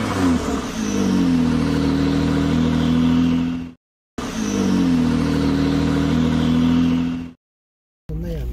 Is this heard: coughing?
no